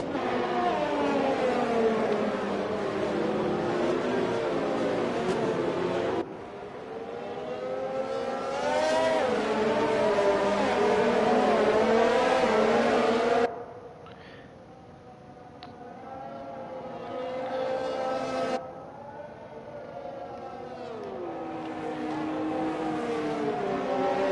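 Race cars during a safety car period near the end of a Dutch Grand Prix in a sim racing game, engines droning and rising in pitch through gear changes, with shifts in tone as the view switches, loud and continuous without talk.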